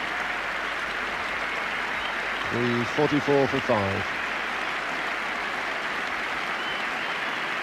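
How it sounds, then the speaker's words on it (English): Cricket crowd at Leeds applauding as batsman Botham, bowled for 60, walks off toward the pavilion steps; steady broad applause runs throughout beneath a commentator's voice, with a short burst of louder speech in the middle. "a chance for the Leeds crowd to get on the feet and applaud him up those pavilion steps"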